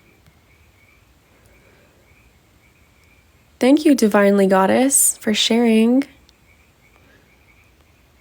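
Frogs croaking at night as a faint, steady chorus in the background, briefly covered by a person speaking in the middle.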